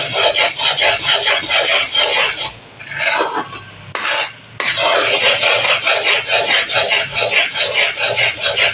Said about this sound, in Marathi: हे सारखं पीठ याच्यात टाकून आपण आता हे सारखं ढवळत राहायचं